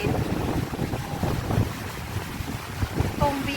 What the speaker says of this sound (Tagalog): Kasi ang lakas-lakas ng hangin.